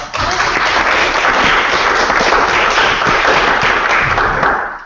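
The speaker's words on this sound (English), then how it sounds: "We'll give you a round of applause." Round of applause from attendees at a student association meeting, dense, loud and steady clapping that holds for several seconds before fading out.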